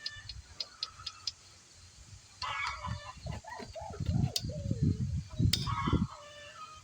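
Chickens cluck and squawk in agitated bursts, growing busier after a quieter start, with a few sharp ticking sounds early on.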